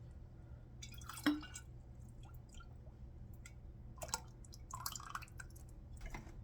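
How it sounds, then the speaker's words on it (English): A little water swirled in glass jars to rinse out leftover tomato sauce while making tomato soup, heard as soft drips, sloshes and squishy liquid sounds, close and quiet with no talking. "I'm gonna use a tiny bit of water just to wash out my jars."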